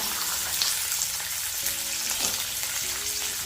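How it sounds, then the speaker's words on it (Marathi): Vegetables, beans and fresh green chickpeas being stir-fried in a pan with sesame seeds, giving a steady close sizzle with light stirring scrapes throughout, no talking. "आणि यामध्ये एक एक करून भाज्या घालणार आहे आणि परतून घेणार आहे पावटा घातला ओला हरभरा"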